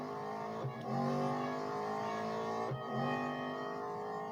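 A race car engine in the mobile racing game Real Racing 3 holds a steady, fairly quiet drone, with two brief dips and rises in pitch as the driver lifts off and gets back on the throttle.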